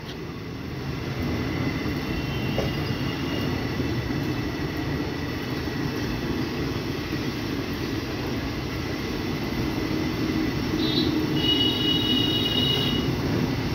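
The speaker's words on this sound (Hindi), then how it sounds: "अमृतसर दरभंगा जननायक एक्सप्रेस" An Amritsar–Darbhanga Jananayak Express passenger train rumbles past at a steady, sustained loudness for the whole stretch, with a continuous low roar of wheels and carriages and a faint high squeal near the end.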